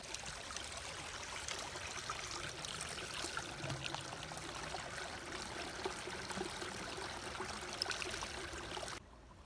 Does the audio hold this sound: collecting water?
yes